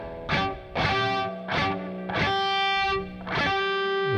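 Electric guitar chord strummed five or six times in a steady rhythm, each strum ringing with distortion and one string sounding off, loud and close with no voices.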